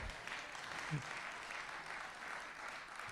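An audience at a teachers' award ceremony applauds with a faint, steady patter of many hands clapping that holds evenly throughout.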